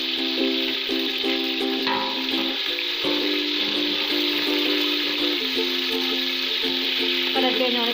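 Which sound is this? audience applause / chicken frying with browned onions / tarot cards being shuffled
chicken frying with browned onions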